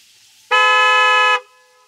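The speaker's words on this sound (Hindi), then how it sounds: "हॉर्न अच्छा है" A Rolls-Royce car horn gives one loud, steady honk of just under a second, clean and alone against a quiet background.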